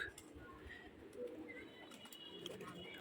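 Pigeons coo softly outdoors on their first day out of the coop, in low, rounded calls over a quiet background, with a sharp noise right at the end.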